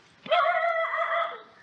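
A dog gives one drawn-out, whining bark-like cry, fairly close and fading at the end, with no talk over it.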